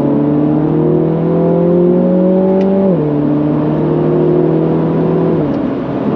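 A MINI John Cooper Works GP3 drives hard, its engine droning loud and steady from inside the cabin, pitch rising under acceleration, then dropping sharply at a gear change before climbing again.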